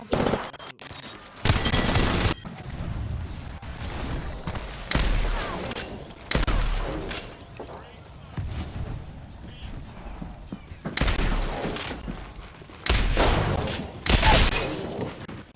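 Heavy Wingman pistol shots boom in the shooter Apex Legends, a string of loud single cracks spaced a second or two apart amid game noise and scattered effects.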